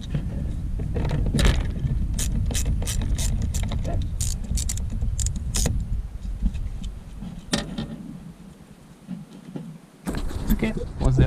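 A ratchet loosens the battery hold-down nuts on a Subaru Impreza, producing a rapid series of close, sharp metallic clicks in bursts, with someone talking over much of it.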